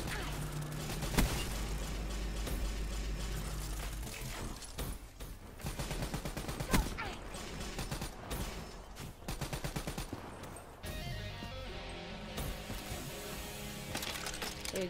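Gunfire rattles through a Black Ops III match, with rapid bursts of automatic shots and sharp single cracks spread across the action, fairly loud and continuous, joined by other game effects.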